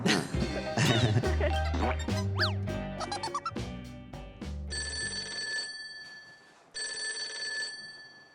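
A telephone rings twice in bright, trilling bursts with a short pause between, after a jumble of clattering, musical sounds, as a caller is connected on a radio call-in show.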